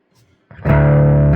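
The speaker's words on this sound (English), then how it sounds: "So the distortions on here are pretty good." A distorted electric guitar rings out through a Boss MK3 amp head on the bridge pickup, a single loud, saturated chord struck after a quiet moment and left to sustain.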